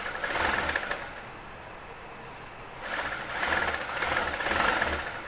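A sewing machine stitches dori piping onto a kurta's side panels and hem, whirring in two steady runs separated by a short silent pause, close and clear with no talking.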